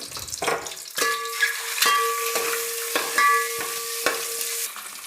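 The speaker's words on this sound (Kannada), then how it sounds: "ಎಣ್ಣೆ ಬಿಸಿ ಆಗ್ತಿದೆ ಮೊಟ್ಟೆನ ಸೇರಿಸ್ಕೊಳ್ತೀನಿ ಬೇಯಿಸಿರೋ ಮೊಟ್ಟೆನ ಸೇರಿಸ್ಕೊಳ್ತೀನಿ" Boiled eggs frying in hot oil with a pinch of turmeric, a close, steady sizzle broken by repeated scraping strokes of a spoon against the pan, no voices.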